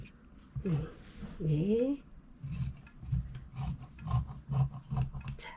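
Scissors cutting along the seam line of a paper sewing pattern, a series of short rasping snips close by, with a voice speaking briefly at the start.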